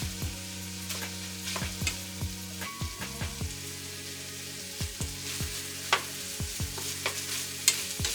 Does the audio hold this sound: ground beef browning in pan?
yes